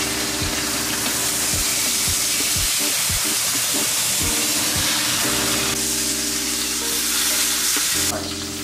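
Pot roast meat searing in a pan on a stovetop: loud, continuous sizzling and crackling fat with occasional soft scrapes as the meat is turned, close and steady throughout.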